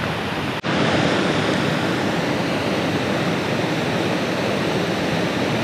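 Steady broadband roar of a waterfall and rushing creek rapids in Hawaii, loud and continuous throughout, with no voices over the churning water.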